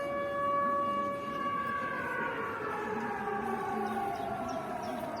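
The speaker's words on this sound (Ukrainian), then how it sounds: "Як ви чуєте, лунає повітряна тривога." An air raid siren wails steadily during an air alert in Ukraine, its long tone slowly falling in pitch, loud and continuous with no talking.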